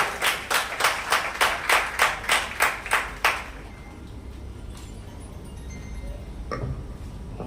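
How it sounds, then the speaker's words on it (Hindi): Rhythmic clapping, about ten sharp claps in steady unison at a Delhi ceremony honoring students who passed 10th and 12th grade, lasting a few seconds before fading into quiet room ambience. "श्री दिलीप कुमार जैन जी, बहुत के लिए जोरदार तालियां।"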